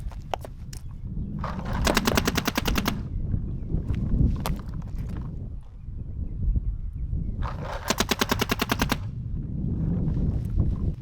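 A paintball gun in a shooting drill, fired in two quick rapid-fire bursts of sharp popping shots, each about a second long, with scattered single shots and shuffling movement and background noise between them.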